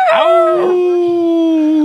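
A person imitates a big dog, a single drawn-out howl with harmonic rising tone, close and loud, sustained for nearly two seconds with no other sound.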